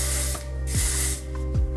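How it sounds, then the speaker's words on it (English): Light hold hairspray hisses from an aerosol can in a few close, steady bursts lasting most of the moment, loud and breathy with faint clicks of the nozzle. "Taking my light hold hairspray,"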